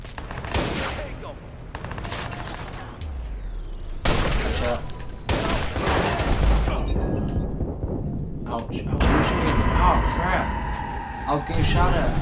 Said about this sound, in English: I was getting shot at.